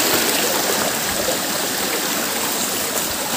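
A jungle stream pours out from a waterfall, a steady, close, broadband rush of flowing water that holds even and unbroken throughout with no voices.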